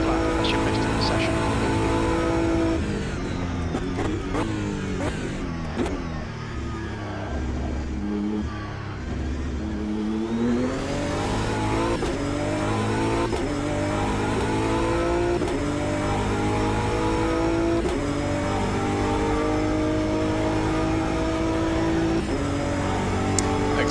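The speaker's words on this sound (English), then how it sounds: "This sounds a lot like a BMW M4 GT3 in my opinion." A BMW M4 GT3 race car in the racing sim AMS2 howls through a lap, with a loud, continuous engine roar rising and falling through gear shifts and downshifts, with a voice speaking over it.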